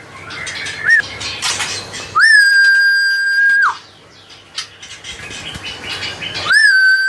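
A caged songbird, a Trotol in a hanging cage at a bird shop, sings loud, close, sustained whistled phrases: a long steady whistle, a pause, then the song rises again. Other bird chirps sound faintly behind it. No one speaks.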